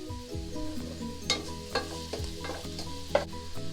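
Salted onions sauté in a pan for Arabic chicken majboos, giving a steady sizzle under a spoon that scrapes and clinks against the pan in irregular strokes.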